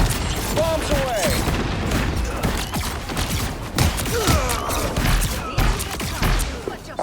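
Iron Man drops bombs in Marvel Rivals, with a steady run of blasts, booms and mechanical whirs and whooshes in a busy fight mix, loud throughout with a voice heard briefly.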